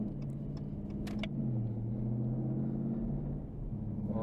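A new, stock Russian car with only about 1,000 miles idles steadily close by, a smooth low engine hum with a faint rise partway through and a few light clicks near the start.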